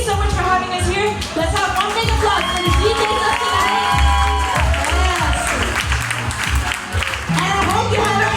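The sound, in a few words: crowd applauding and cheering for the DJs at a bachata event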